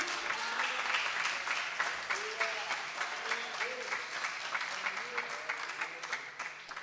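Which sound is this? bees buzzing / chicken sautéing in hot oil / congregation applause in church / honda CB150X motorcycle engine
congregation applause in church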